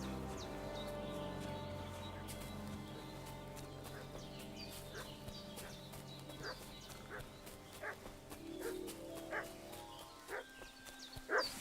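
A dog barking and whimpering in the video game Kingdom Come Deliverance II, with repeated yelps and whines over a dense layer of music and ambient game sound, moderately close.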